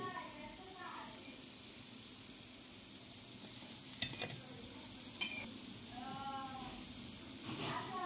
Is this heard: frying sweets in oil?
yes